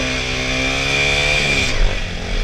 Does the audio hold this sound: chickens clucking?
no